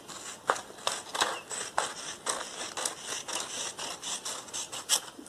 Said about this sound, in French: Toujours avec mes petits ciseaux de couture parce que j'aime bien.